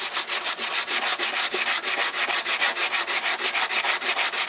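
Bondo body filler being sanded by hand in a VW MK2 engine bay: a steady, loud back-and-forth rasp with an even rhythm of about five strokes a second, heard alone.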